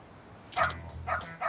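A dog in the video game Lost Judgment gives three short barks, the first loudest, spaced about half a second apart, with no talk over them.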